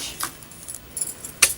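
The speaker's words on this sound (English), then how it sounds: "So I've got my keys on here. Put my keys in there." Keys jangling in short, soft bursts as they go into a Dooney and Bourke Florentine teal handbag, with quiet pauses between the clinks and a sharper final jingle.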